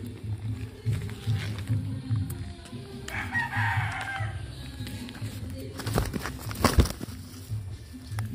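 An aggressive rooster crows in repeated bursts, close and fairly loud, with clucking and farmyard noise between calls and a sharp burst near the end.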